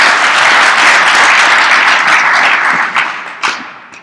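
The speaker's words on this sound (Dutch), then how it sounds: "Geef hem een applaus." Loud, dense audience applause welcoming a speaker at a presentation, sustained clapping from a full room that thins out near the end into a few scattered, sharper claps.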